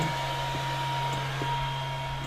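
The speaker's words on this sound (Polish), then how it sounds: "i dalej wentylator chodzi" A Webasto diesel heater fan runs steadily in a camper van during winter, giving a continuous even whir with a constant hum and faint clicks, with no talking.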